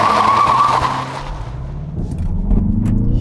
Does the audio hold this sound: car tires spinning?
yes